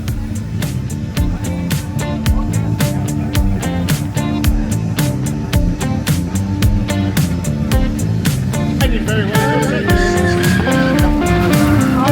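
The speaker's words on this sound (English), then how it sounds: "Loud engines, dust clouds in your face, and cars spending more time airborne and sideways" Race cars at the Goodwood Festival of Speed roar loudly and continuously over dense, rhythmic background music, with sharp repeated hits throughout twelve seconds of sustained, full sound.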